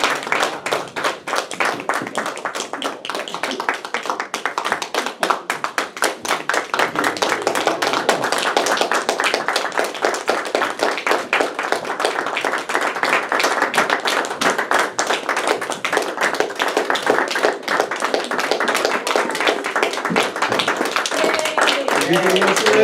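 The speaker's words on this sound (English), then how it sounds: "come on up here so that we can all give them a round of applause" An audience claps steadily for incoming officers, a dense sustained round of applause lasting over twenty seconds.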